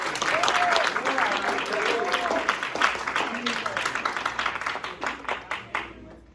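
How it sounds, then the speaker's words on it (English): An audience applauds a guest speaker at a health talk on vaping, loud sustained clapping with some voices mixed in, thinning out into scattered separate claps before stopping. "So let's give a round of applause."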